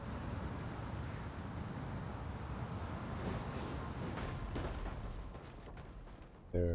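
Dense, continuous battle roar of ranged units such as slingers and archers firing in Total War: Rome II, a broad rumbling wash with faint crackling volleys, steady throughout and ending in a sudden louder burst.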